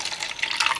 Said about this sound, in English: I'm going to put water in another one.